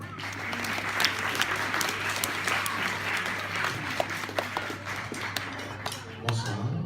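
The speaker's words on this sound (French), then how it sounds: "Merci, on peut l'applaudir." An audience at a short-film screening applauds the film director, a dense spread of clapping with a few sharper claps standing out, steady throughout, a low hum underneath.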